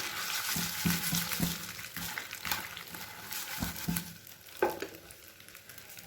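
Pieces of leftover roti, shaped like idli, fry gently over a low flame with a soft sizzle, interrupted by several scraping thumps as they are turned over in the pan, with no talking.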